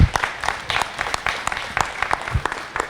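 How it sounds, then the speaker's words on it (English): Audience applause for a sheriff's sergeant being honored at a ceremony: a short run of hand claps, moderately close and fairly sparse, with no talking over it. "Let's give him a round of applause"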